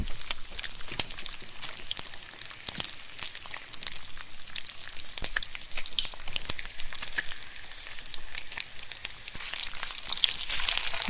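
Washed chicken pieces sizzle and fry in a hot pan for curry, a steady crackling hiss with frequent sharp pops, fairly quiet and continuous with no talking.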